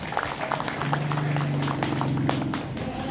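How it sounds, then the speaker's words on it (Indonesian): An audience at a public meeting breaks into applause, a sustained dense clatter of many hands clapping, with a voice humming or speaking underneath through the middle. "Tepuk tangan dulu untuk kita semua."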